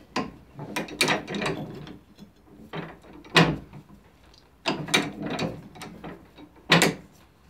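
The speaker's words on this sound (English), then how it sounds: "We feed the horn through between this dolly and this back plate, and we squeeze up." Ram's horn for a shepherd's crook squeezed in a press between a dolly and a back plate, a series of close creaking, ratchet-like mechanical bursts repeating in uneven clusters, with quiet gaps between them.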